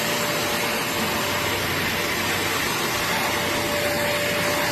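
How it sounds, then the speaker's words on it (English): A Bissell Little Green upholstery wet vacuum sucks dirt from fabric with a loud, continuous whining suction roar that holds steady throughout, with no talking. "You can see the dirt going up into the suction."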